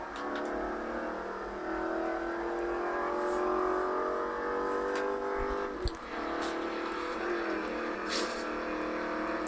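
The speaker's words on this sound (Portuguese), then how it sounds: "Se o Jeep não parar de acelerar." Jeep accelerating in a racing video game, a steady engine drone with shifting pitch as it speeds up, with a brief sharp knock partway through and no talk.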